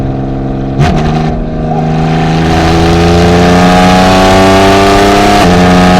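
A 2023 Porsche Cayman GT4 RS Weissach engine pulls under light throttle, a loud, close, smooth, steady drone that climbs gradually in pitch, with a brief gear-change dip near the start.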